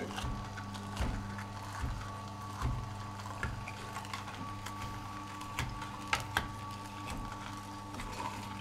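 A juicer presses cucumber through into juice, giving a steady low mechanical whir with repeated knocking and grinding pulses, close by and without talk.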